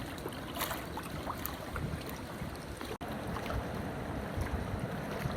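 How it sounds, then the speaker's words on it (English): Steady, loud roar of floodwater rushing through the open centre gate of Cairn Curran Reservoir, a broad continuous wash that is close by and unbroken apart from a momentary dip. "As you can hear the roar, the centre gate at Cairn Curran Reservoir is open."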